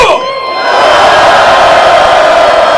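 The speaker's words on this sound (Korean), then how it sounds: "다 같이 큰 함성 질러주십시오" A large crowd at a Democratic Party rally protesting comment manipulation roars in a loud, sustained collective cheer that swells quickly and holds steady with mixed yelling voices.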